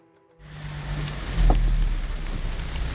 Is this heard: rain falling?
yes